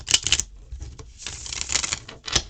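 A Rackham tarot card deck being shuffled, giving close, crisp riffling bursts with brief pauses between them and no talking.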